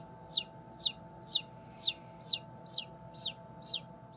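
Newly hatching chicks peeping from eggs in a brooder setup, eight evenly spaced high chirps in steady rhythm, close and clear over a faint hum.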